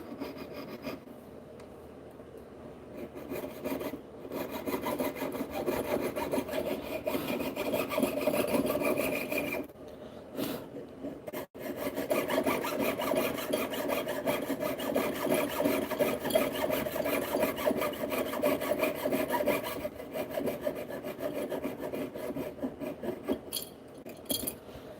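Steady rasping strokes of a hand saw piercing a silver stamping, continuous and close for most of the stretch, with two brief pauses where the cutting stops.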